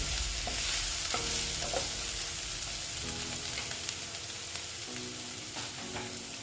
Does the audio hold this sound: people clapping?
no